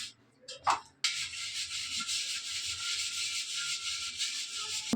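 Copper vessel being scrubbed clean with a scrubber, a steady bright rubbing hiss that starts abruptly after a few faint handling taps and continues close and even to the end.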